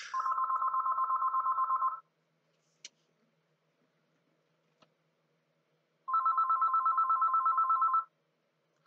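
A telephone rings with an incoming call, sounding two long electronic ring bursts separated by a few seconds of near silence, clear and close, with no voices.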